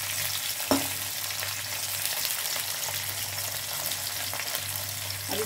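Finely chopped garlic cloves sizzling steadily in a pan, a continuous crackling fry with a single stirring clatter near the start and occasional light scrapes, no voices.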